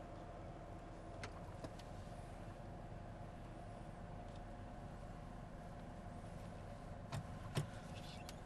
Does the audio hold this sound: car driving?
yes